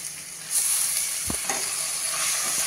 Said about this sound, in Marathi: आता आपण हे भिजवून नंतर निथळून घेतलेला गव्हाचा दलिया, तूर डाळ आणि मूग डाळ यामध्ये घालतोय